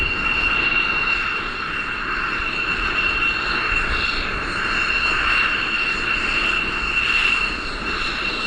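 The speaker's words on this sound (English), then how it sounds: "So here you see those F-16s taxiing out, and they headed straight off for the Mach Loop." F-16 fighter jets taxiing out, a loud, steady jet engine roar with a sustained high whine holding evenly throughout, fairly close, with no voices.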